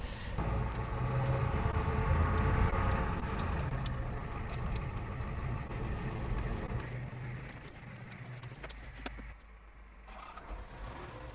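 A low tractor engine rumbles steadily at a moderate distance on a farm, idling without much change, with scattered clicks and a faint bird now and then.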